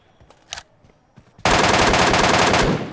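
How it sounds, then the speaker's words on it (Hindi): MK14 rifle fire in a PUBG-style battle royale match: after a few quiet clicks and taps, a loud rapid burst of automatic shots erupts and keeps hammering to the end, close and dominant. "MK14 कितनी अच्छी गन है, मज़ा ही आ जाता है MK14 से मारने में"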